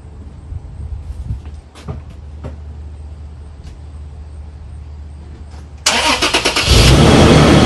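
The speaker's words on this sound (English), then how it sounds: "Let me start the engine" A car engine cranks and catches after a quiet stretch, then settles into a loud, steady run with a rumbling, raspy note from a leaking muffler.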